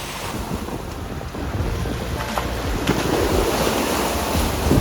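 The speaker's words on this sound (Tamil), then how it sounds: "ஒரு லேக்கு அலை மாதிரி அடைக்குது." Wind-driven waves on Lake Geneva at Lausanne slosh and break steadily under strong gusts, with loud, continuous wind buffeting the microphone throughout.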